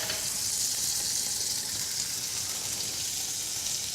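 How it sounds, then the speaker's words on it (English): Foie gras sears in a hot pan, giving a steady, even sizzle that stays close and constant throughout, with no voices. "watch this foie gras in the pan"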